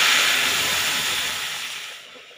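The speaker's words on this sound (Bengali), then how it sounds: "ফোড়নটা একটু ভাজা হয়ে গেলে তারপরে ডালটা দিয়ে দেবো" Dal is poured into hot mustard oil tempered with panch phoron and dried red chilli, raising a loud, dense sizzling hiss that starts at full strength and fades steadily over about two seconds.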